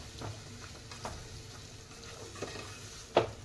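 Marinated paneer cooks in a pan with a soft, steady sizzle, faint scrapes of stirring and one sharper clink near the end, with no voices.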